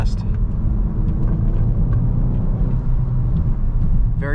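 A Volkswagen Mk8 GTI 40th Anniversary on lowering springs drives along, its engine and road noise forming a loud, steady low rumble heard from inside the cabin, with a voice talking over it.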